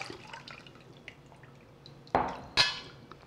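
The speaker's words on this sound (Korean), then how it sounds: "체에 받쳐서 물기를 뺄게요." Water drains from rinsed garlic resting in a kitchen sieve: soft scattered drips and trickles, then two sharper splashy bursts near the end, all fairly quiet with no talking.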